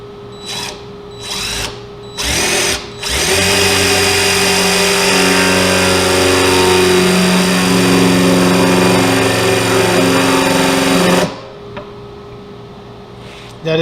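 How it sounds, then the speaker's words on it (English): Spade bit boring into an oak chair with a power drill, a loud steady whine running about eight seconds after a few short starting bursts, then cutting off abruptly. "I'm using this spade bit instead of my other bit's not very sharp"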